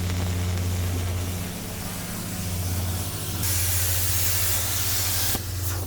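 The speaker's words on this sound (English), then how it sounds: "So once again we're using the Sabre plasma on site" A Sabre plasma cutter slices through metal on an outdoor yard job site, giving a loud, continuous hissing roar over a low steady hum that brightens partway through and cuts back near the end.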